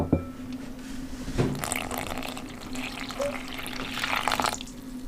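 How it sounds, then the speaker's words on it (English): Room-temperature water poured from a cup into a bowl of pizza dough mixture, a soft trickling pour with a faint hum underneath, no talking. "So you add in 160 ml of room temperature water."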